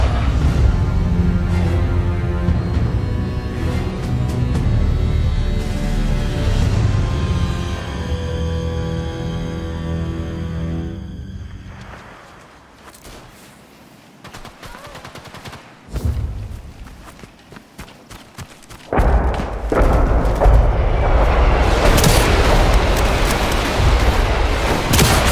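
Grenade blasts and gunfire in the video game Sniper Elite 5 during a team deathmatch, with loud low booms and rumbling, a quieter stretch midway, then another heavy burst of explosive noise, up close.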